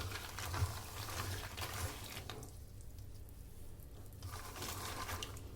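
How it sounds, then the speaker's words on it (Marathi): Water drains off freshly washed groundnuts in the shell, making a steady, moderately quiet splashing rush that eases briefly midway and then returns, with no voices. "हे आता मी पाणी काढून टाकते दोन ते पाण्याने दोन ते तीन पाण्याने धुवून नंतर तुम्हाला दाखवते"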